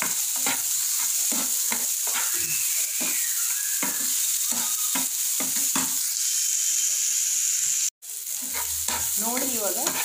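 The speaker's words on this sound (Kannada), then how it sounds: "ಜೂ ಟೊಮ್ಯಾಟೊ ಹಾಕ್ಕೊಂಡು ಫ್ರೈ ಮಾಡ್ಕೊಳ್ಳಿ." Tomatoes and chopped vegetables fry in a pan for bread toast topping, a steady bright sizzle broken by repeated scraping stirs of a spoon, close and loud with one brief dropout.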